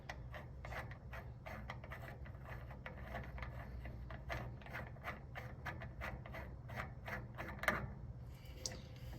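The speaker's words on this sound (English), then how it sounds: "And then we're going to grab our nozzle and just give it a twist." A lens nozzle is twisted off an 80W laser engraver, giving a close series of quick clicking, ratcheting scrapes repeated in a steady rhythm over a low machine hum.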